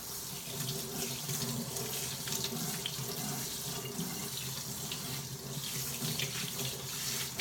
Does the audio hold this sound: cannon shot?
no